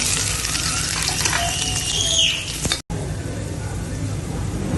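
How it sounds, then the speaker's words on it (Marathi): Onion with cumin tempering hitting hot oil with a loud, dense sizzle that holds steady, briefly cut by a sharp gap, then continues slightly softer. "तेल टाकून घेतलं आहे। जिऱ्याची फोडणी द्यायची। कांदा टाकते।"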